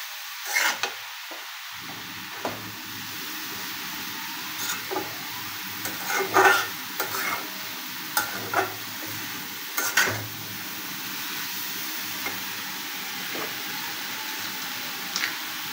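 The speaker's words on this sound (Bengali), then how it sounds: "এগুলো এখন খুব ভালোভাবে নেড়ে চেড়ে কিছুক্ষণ ভেজে নেব" Grated carrots being stirred and fried in a pan for carrot halwa, a quiet steady sizzle broken by scattered scraping clicks of a spoon against the pan, no voices.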